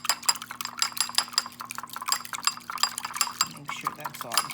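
Eggs with milk, a pinch of salt and pepper, whisked briskly in a bowl, a fast run of light, rattling clinks of utensil against dish, with a voice speaking over the top.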